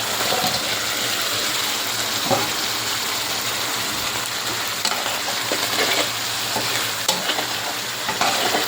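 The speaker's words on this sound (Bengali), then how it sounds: "এখন ডিমগুলো ছেড়ে দিচ্ছি।" Eggs fry in a hot pan with a loud, steady sizzle and crackle that fills the whole stretch, broken by occasional scraping.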